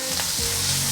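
Vegetables such as fuzzy melon, carrot and black fungus being quickly stir-fried in oil in a wok, a steady close broadband sizzle with a brief scraping stir partway through, no talking.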